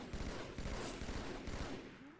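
Rapid battle rifle bursts and heavy combat fire from Halo 2 on the Delta Halo level, dense overlapping shots crackling continuously at a steady loud level with no voices.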